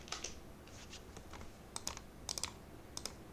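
Keys tapped on a computer keyboard while typing a search term into a web app's search bar, a few quiet scattered clicks at first, then short bursts of crisp keystrokes, close and faint with no talking.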